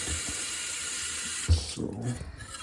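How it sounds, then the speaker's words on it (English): Cold tap water runs into a pan of caramel with a steady hiss, followed by a brief thud and clattering splash. "I'll run some cold water in it to get it faster for you."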